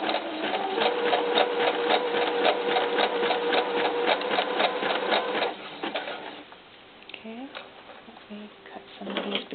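A sewing machine stitches doll underwear with a fast, steady mechanical patter for about five seconds, close and fairly loud, then stops, leaving soft handling noises and quiet fabric movement.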